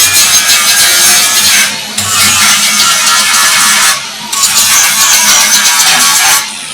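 A handheld power tool grinding mill scale off steel stock for a steel and reclaimed barn wood table, a loud close high-pitched whirring abrasion in three long passes separated by brief lifts, with no talk.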